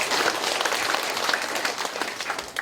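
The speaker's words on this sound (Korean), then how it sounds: "큰 박수로 부탁드리겠습니다" Audience applause at a New Year community gathering in Pungsan-eup, Andong: a dense, steady burst of many hands clapping together, sustained and fairly loud with no voices over it.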